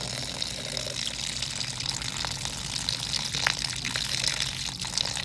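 Steady water pouring and splashing out of a vacuum pressure relief valve, a continuous close rush with small gurgles, no voices.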